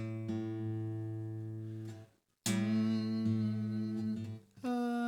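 Two guitar strings plucked together while tuning the fifth string by ear, ringing in slow sustained pairs with a brief gap, then struck again; the notes sit close in pitch, just slightly off, decaying and re-plucked near the end.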